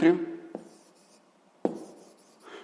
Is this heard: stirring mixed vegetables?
no